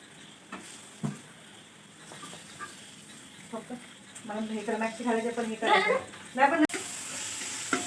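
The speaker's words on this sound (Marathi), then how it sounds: "तिकडे कांदा सुद्धा भाजते" Onion sizzling as it fries in a pan, a soft crackle that grows denser toward the end, with a few scrapes of stirring and a person talking over it.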